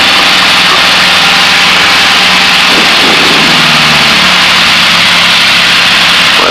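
A light training aircraft's engine throttled back to about 1,500 rpm in flight, a loud, steady droning roar that fills the cabin and continues without pause, with no talk heard.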